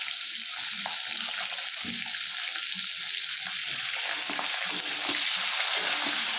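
Capsicum with bay leaf and nigella seeds frying in oil in a pan gives a steady loud hiss of sizzling, broken by soft scraping stirs throughout.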